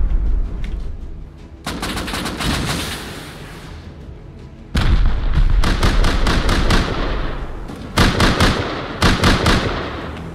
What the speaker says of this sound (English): There's a rocket.